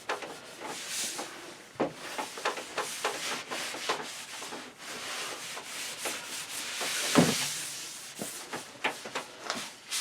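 A microfiber cloth wipes a shellac finish on MDF, producing a run of close, quick rubbing strokes with small knocks between them, starting and stopping irregularly, with no one talking.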